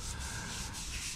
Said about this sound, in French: Tout simplement avec ma petite ponceuse là. Et avec du papier en 80.